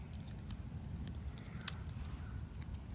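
Small scissors on a modified Leatherman Free P4 multitool snipping repeatedly, light quick clicks spread across a low, steady rumble in the background.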